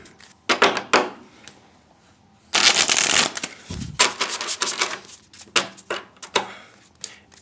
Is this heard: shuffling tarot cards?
yes